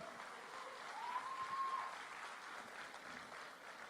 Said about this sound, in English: this team requires a huge round of applause from all of you